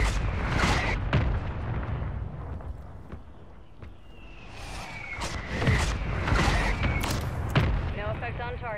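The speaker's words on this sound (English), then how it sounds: "Mortar strike inbound." Mortar strike explosions in Call of Duty Warzone, several booming impacts spread across the stretch amid battle noise and game radio chatter, loud and fairly close, with a voice speaking over them.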